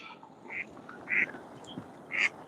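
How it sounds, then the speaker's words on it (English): Startled ducks at a fishing spot quack in three loud bursts, spaced about half a second to a second apart, heard alone outdoors. "Oh, someone's scared the ducks. Someone stirred the ducks up."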